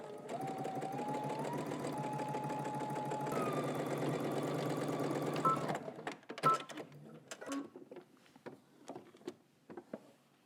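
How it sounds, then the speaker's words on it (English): A sewing machine runs steadily for about six seconds, stitching a raw edge on fabric for pants, then stops and gives way to a series of scattered clicks and handling taps close by. "I'm stitching 3/8 of an inch away from the cut edge since I'm doing a raw edge"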